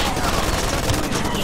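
Dense, continuous gunfire from the video game Far Cry 2, a steady rattling fusillade at even loudness throughout with no clear pauses, and a voice faintly present underneath.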